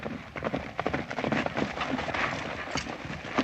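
Rapid hoofbeats clatter in a steady, galloping rhythm, fairly close and continuous, with a busy rattling texture throughout.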